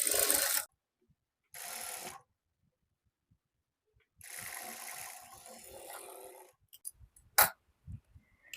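A sewing machine stitches a blouse neck in short bursts, loud and close, separated by silent pauses; clicks and knocks of handling the fabric and machine follow near the end.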